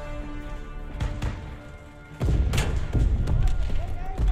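A Fortnite explosive goes off as a heavy boom halfway through, leaving a dense, rumbling roar that persists to the end, preceded by scattered dull thumps.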